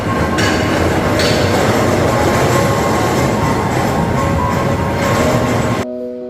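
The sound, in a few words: train moving in railway yard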